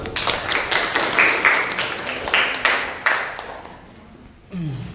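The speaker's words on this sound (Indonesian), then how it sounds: "Beri tepuk tangan dulu." Group of people clapping hands after a classroom group presentation, a steady round of applause that fades out near the end.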